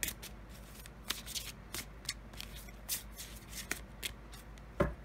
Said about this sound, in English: So let's draw a color goddess casting card for you